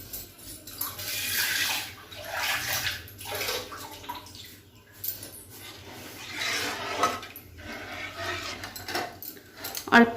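Water is poured and stirred into a pot of Odia-style dahi kadhi made with yogurt and gram flour, with splashy pouring bursts and utensil clinks under a voice.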